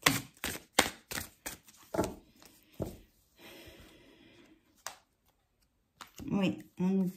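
Tarot cards are shuffled in a series of sharp riffling snaps and slaps, followed by quieter rustling handling, with a voice speaking briefly near the end.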